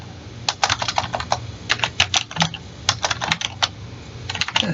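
Close, brisk typing on a computer keyboard in bursts of rapid key clicks with short pauses between, alone with no talking.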